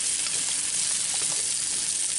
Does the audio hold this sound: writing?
no